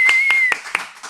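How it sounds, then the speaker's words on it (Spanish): A few separate claps from a small group at the close of a podcast episode, roughly five sharp hand strikes spaced unevenly over about a second, with a faint steady tone running beneath. "Un aplauso para Cristian Domínguez"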